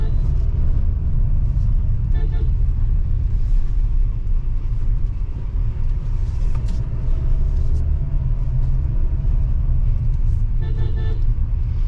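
A Tata Safari SUV drives through a village with a steady, loud low engine rumble and road noise throughout, a couple of brief horn-like toots breaking in near the start and end.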